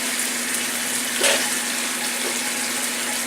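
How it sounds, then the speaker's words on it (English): Water is poured into a pan of stewing peppers, onions, mushrooms and coconut milk: a steady, continuous rushing hiss that stays close and even throughout, with one brief louder splash near the middle. "I'm going to put a little more water in there."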